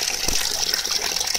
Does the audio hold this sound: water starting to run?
yes